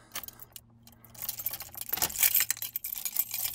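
A set of car keys jangles close by inside an old car, faint clinks at first, then a louder burst of metallic rattling and shaking that continues to the end.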